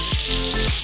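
Fresh curry leaves hit hot oil that already holds cumin seeds, tempering for moraiya khichdi and giving a loud, steady crackling sizzle with sharp pops. No voices.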